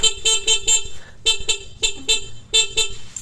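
A Suzuki X4 motorcycle horn sounds in a rapid series of short beeps, alternating between higher and lower tones, loud and close, with no talking.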